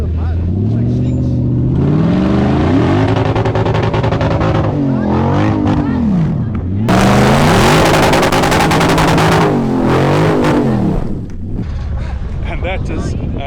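A locker-equipped Jeep with a V8 clawing up a muddy, off-camber bank at a 4x4 challenge, engine revving hard and loud with rising and falling pitch, tires throwing mud in a roaring burst, voices heard in the background.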